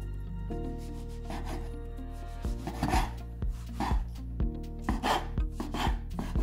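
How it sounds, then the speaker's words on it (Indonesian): A knife cuts bread into small cubes on a board, giving a run of soft, dull chopping thuds that grow more frequent and slightly louder toward the end, over steady background music. "Potong roti pada cube kecil."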